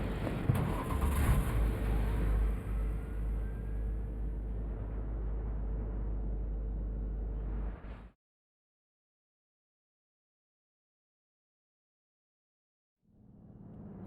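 A car drives in Cyberpunk 2077 with a loud, steady engine drone that holds for about eight seconds, then cuts abruptly to silence before a faint return of sound at the end.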